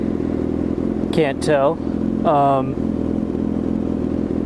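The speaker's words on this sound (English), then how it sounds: "So I got my M4 exhaust on" Motorcycle fitted with an M4 exhaust idles with a steady low rumble close by, while someone talks briefly over it.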